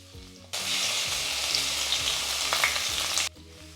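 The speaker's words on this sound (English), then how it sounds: "Now add crushed ginger garlic. Saute for 30 seconds." Crushed ginger and garlic hit hot oil with dried red chilies in a pan, a loud, even sizzle rising suddenly and holding for a few seconds before cutting off.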